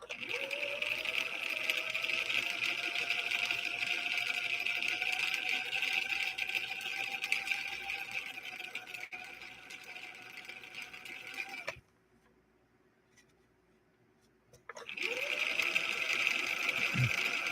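A sewing machine runs a blind hem stitch, whirring steadily with a rising motor pitch at the start, stops for about three seconds of near silence, then starts again and spins back up, close and loud without talking.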